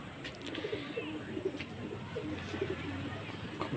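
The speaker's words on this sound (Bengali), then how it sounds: "দেখো এখানে দুটো পায়রা খাচ্ছে" Pigeons in a loft, Madrasi-type birds, giving several soft, low coos scattered across a quiet background with faint chirps.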